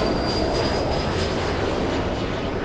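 A KLM airliner at LAX gives off a steady, loud broadband engine roar with a thin high whine running through it. The sound holds even for just under three seconds, with no talking.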